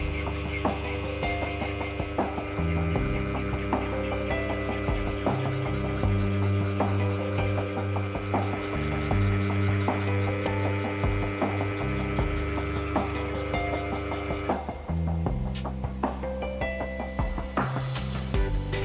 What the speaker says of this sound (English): I'm finishing up those areas with a fine cut file on the filing machine.